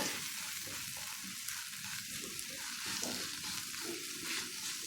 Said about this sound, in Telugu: వెల్లుల్లిపాయ కారం వాసన అంతవరకు వేయించుకున్నాం కొద్దిసేపు